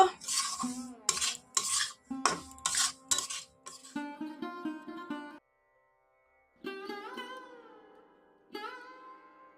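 A utensil stirs semolina (suji) frying in a pan, scraping and clinking against the metal in quick, close strokes. The stirring comes in bursts separated by brief pauses, with no talk.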